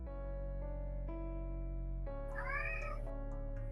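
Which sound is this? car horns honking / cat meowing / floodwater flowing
cat meowing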